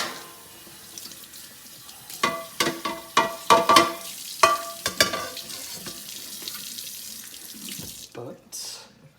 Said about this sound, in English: We're gonna scrub it real quick.